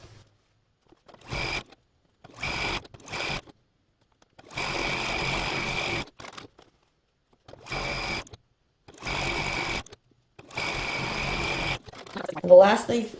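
Domestic sewing machine stitching a thin fabric strip onto a quilt's tree section, running in six short bursts of steady whirring separated by silent pauses, close and moderately loud, with a brief rustle at the end.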